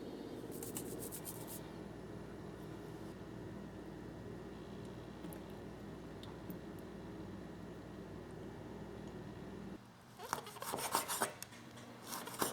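Abalone being scrubbed with salt using a brush or steel wool, a steady close rasping rub running for about ten seconds, followed by a burst of louder scraping and clatter near the end.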